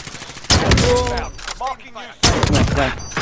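Several bursts of automatic gunfire in Call of Duty: Warzone near a prison rooftop, loud and close, with a quieter gap in between and a voice talking over the shots.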